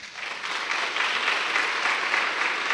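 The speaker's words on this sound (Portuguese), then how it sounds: "Aplauda São José." An audience applauds steadily throughout at a religious talk about Saint Joseph, a dense, even wash of clapping with no voices over it.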